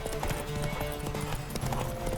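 Roach, a horse in The Witcher 3, gallops with a fast, steady clip-clop of hooves, close and continuous over a busy game background.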